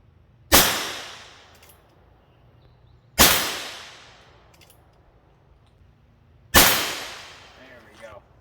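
Three loud, sharp gunshots from a Heritage Rough Rider revolver firing Winchester Game and Target rimfire ammo, evenly spaced about three seconds apart, each with a long ringing decay outdoors.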